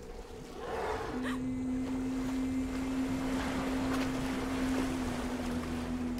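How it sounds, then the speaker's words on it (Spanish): Ocean waves surge and wash in a steady, continuous roar under a low sustained tone in the Sea of Solitude video game, with no talk over it. "Demasiadas olas"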